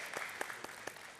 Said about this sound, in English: Let the claps go a little louder.